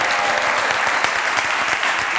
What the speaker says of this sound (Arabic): تصفيق على معز دينيز